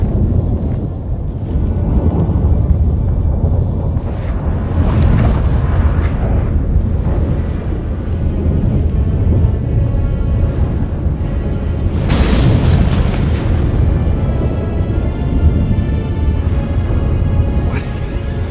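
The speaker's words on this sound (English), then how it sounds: "That a storm?" Thunderstorm in The Witcher 3: Wild Hunt: a loud, unbroken roar of wind and low rumbling, with a sharper thunder crack about two-thirds of the way through.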